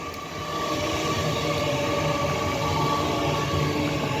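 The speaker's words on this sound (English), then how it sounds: "Next up to arrive will be the 1011 LNER Zuma service from Leeds to London King's Cross." An LNER class 801 Azuma, unit 801 112 leading on a Leeds to London King's Cross service, arrives at Peterborough station with a steady, close rumbling roar of engines and wheels on rails.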